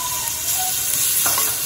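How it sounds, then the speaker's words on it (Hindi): Crushed garlic frying in a little oil in a pan gives a loud, steady sizzle and crackle that runs throughout, with a brief stir near the end. "अब हम इसमें 1 टीस्पून क्रश किया हुआ गार्लिक डालेंगे"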